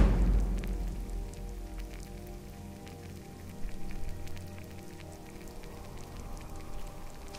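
Steady rain falls over an outdoor encampment of tents with a bonfire, a continuous dense patter that holds even and moderately loud throughout, with no voices.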